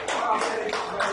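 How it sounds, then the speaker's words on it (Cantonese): A small group gives a short burst of applause, a few quick claps under a speaking voice. "喂，叻女，俾個掌聲佢先"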